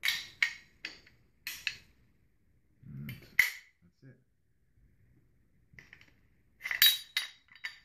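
Magnetic concrete grinding segments being snapped back onto a 3-inch quick change plate, a few sharp metallic clicks and clinks scattered between moments of talking.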